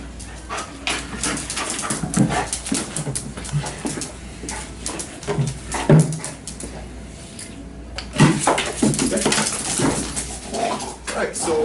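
Excited police K-9 dog of a county sheriff's unit whimpering and whining in bursts close by, mixed with handler talk, clattering boxes and movement noise.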